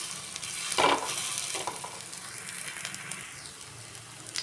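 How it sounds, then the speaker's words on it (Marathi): Veg cutlets fry in a pan of oil over a medium flame, giving a soft, steady sizzle with an occasional scrape of stirring, quiet and close with no talking. "चला तर मी 4-4ची बॅच करून भाजून घेत आहे."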